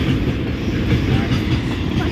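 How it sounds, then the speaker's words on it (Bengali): A goods train rumbles past close by, a loud continuous roll of heavy wagons with rhythmic wheel clatter. "খালি মাল ট্রেনই দেখা যায়।"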